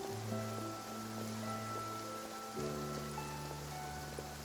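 Steady rain pouring down in the Fontaine region of the video game Genshin Impact, a continuous hiss of falling water heard beneath sustained tonal game music, with no speech.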